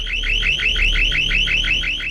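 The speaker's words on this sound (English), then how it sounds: "if we cut 1 wire too many, the alarm goes off" In The Dark Mod, a loud alarm warbles in a fast repeating rising siren pattern, about eight cycles in two seconds, steady and alone.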